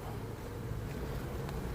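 Honey bees drone steadily at an open hive during a smoked inspection, a dense, continuous close-up buzz of many insects at even loudness throughout with no talking.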